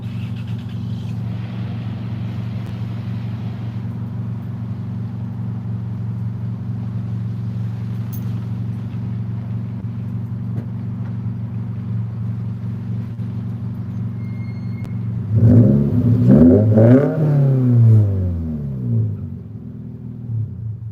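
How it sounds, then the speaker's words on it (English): A car engine idles with a steady low drone for a long stretch, then gives a short rev that briefly swells louder before settling. "I'll give it a tiny little rev for you, Toy, and we'll turn it off"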